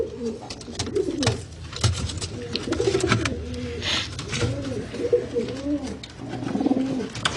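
Pigeons coo close by in repeated soft, rolling calls, several overlapping phrases in a steady rhythm, with faint handling noises around them.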